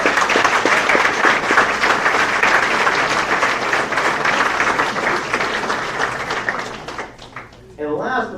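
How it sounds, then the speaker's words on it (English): A hall of fame induction audience claps loudly and continuously, a dense wash of many hands that fades out near the end. A voice cuts in briefly at the close. "Let's give her a round of applause."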